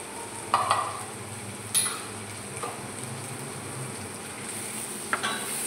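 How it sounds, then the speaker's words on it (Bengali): Spice masala being stirred into egg biryani frying in a pan, with a low steady sizzle under a few scattered scrapes and clinks of the spoon against the pan. "দিয়ে এটাকে ভালো করে নাড়াবো।"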